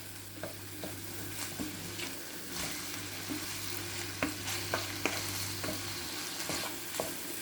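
A spoon works spices into meat pie filling with a soft, intermittent scraping and clicking. Quiet frying and a low hum run underneath and stop near the end.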